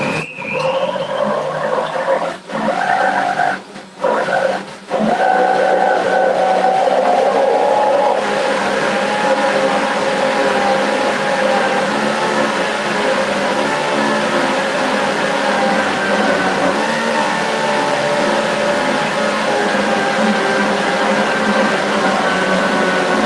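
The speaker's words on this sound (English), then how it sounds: "We're going to put it back onto the blender" A blender running at full speed on a raw vegan bagel and bread mixture: a few short bursts, then a loud, steady motor roar that goes on alone without letup.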